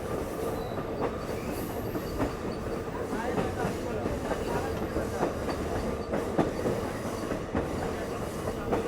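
The Lehigh Gorge scenic train rolls along rails beside the Lehigh River near Jim Thorpe, Pennsylvania, a steady close rumble with rhythmic wheel clicks and faint squeals throughout.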